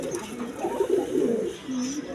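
A red Rajgolla pigeon coos nearby in low, rolling, throaty phrases, repeated over a couple of seconds amid a murmur of background noise.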